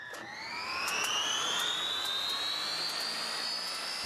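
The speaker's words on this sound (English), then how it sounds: "This is the engine that's found in the Sea King helicopter." A Sea King helicopter turbine engine mounted in a jet boat spools up, its rising whine climbing steadily and growing louder over a broad rushing roar, close and continuous with no talking.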